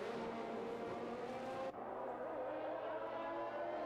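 Formula 1 cars in an F1 video game race at Suzuka run under the safety car, a steady engine drone with layered car sounds, briefly changing midway as one car overtakes.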